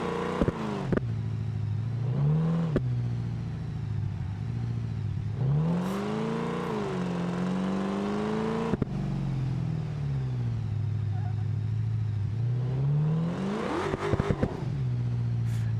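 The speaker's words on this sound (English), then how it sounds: "It almost like downshifts like really hard." Car engine in BeamNG revving hard and downshifting, pitch swooping up and down in loud, sustained surges with sharp blips at each gear change, with no voices.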